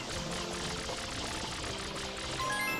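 Mario sprays water from FLUDD in Super Mario Sunshine, a steady hissing gush that runs continuously at moderate loudness with game music faintly underneath and no talk.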